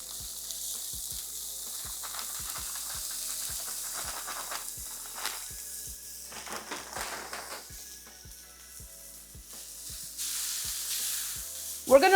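Microwave-steamed riced cauliflower medley sizzles in a hot frying pan, a steady close hiss with occasional stirring scrapes and light taps throughout.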